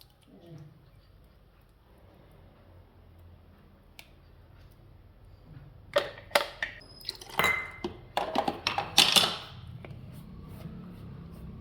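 Spinach mixed into paratha dough in a bowl, heard as a quiet stretch followed by a burst of close wet squelches and clinks against the bowl, with a person talking.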